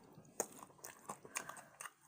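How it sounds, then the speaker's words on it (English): Close, crunchy chewing and biting of chicken during a mukbang, with several distinct crunches spread over about two seconds against a quiet background. "Y'all see how I'm chewing it."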